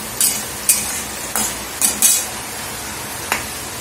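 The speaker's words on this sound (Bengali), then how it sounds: "আর এখানে আমি এখন বড়িগুলো ভাজছি" Lentil dumplings (bori) fry in a pan while a spatula scrapes and clinks against the metal about six times at irregular intervals over a low sizzle, with rain falling outside.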